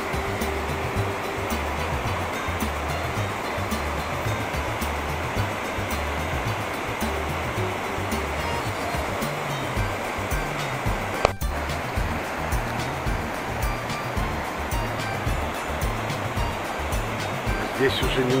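A small waterfall in the Himalayas near Vishnuprayag, a steady, loud rushing roar of falling water continuing without a break, with a brief click midway.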